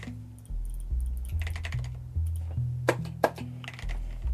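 Mechanical key presses on an 8BitDo Mecha BREAK keyboard while a macro records, a close, irregular run of clacky strokes with a few sharper, louder hits and no voice.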